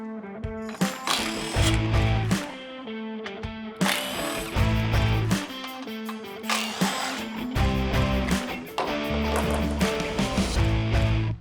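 A power tool, likely an impact driver, whirs and rattles in repeated short bursts while the 12mm bolts come out of a skid plate underneath a 2024 Toyota Tacoma, loud and close with no talking.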